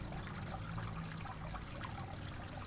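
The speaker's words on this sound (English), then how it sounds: "I'd like to express my gratitude to have clean flowing water" Clean water flowing and trickling steadily, a soft continuous splashing wash with faint low gurgling, quiet and unbroken throughout with no talk.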